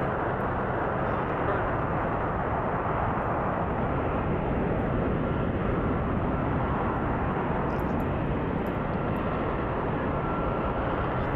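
Jet aircraft in a military video game, a broad continuous roar filling the whole stretch at even loudness, like a plane passing overhead, with no speech.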